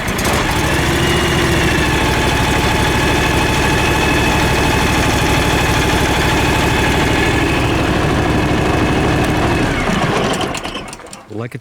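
Idling engine of a John Deere X739 lawn tractor after six years of use, a steady loud mechanical drone with buzzing vibration held evenly for about ten seconds before cutting off abruptly into rattling quiet.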